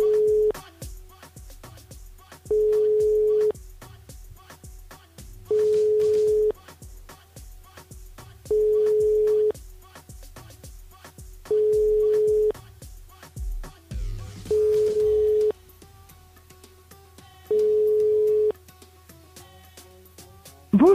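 Repeated telephone ringback tones on a radio call-in line, seven evenly spaced beeps about three seconds apart, clear and prominent over a steady low background hum.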